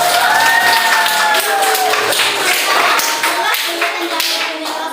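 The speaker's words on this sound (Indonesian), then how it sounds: "Tepuk tangan dulu." Lively clapping from a group at a school competition award announcement, continuous and fairly loud, with voices talking and calling out over it.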